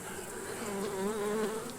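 Honey bees buzz close by during a hive inspection, a dense, steady hum with a few louder wingbeat tones rising and falling as bees pass near, and nobody talking.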